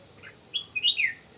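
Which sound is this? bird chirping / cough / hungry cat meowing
bird chirping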